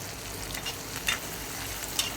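Chopped tomato and onion frying in a pan for semiya upma, a dense, even sizzle with a few brief crackling pops, close and steady, with no voices.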